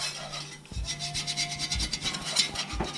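A utensil scrapes the bottom of a hot pan of fried turkey gumbo, a close, steady rasping rub in repeated strokes with brief pauses and no talking.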